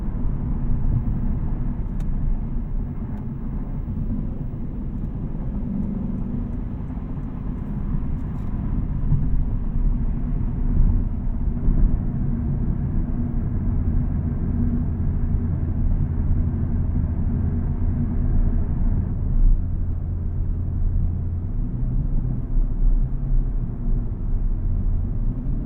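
A 2024 Lexus IS500 F Sport being driven, its engine producing a steady, low, continuous rumble from inside the cabin for the whole stretch, with no talking.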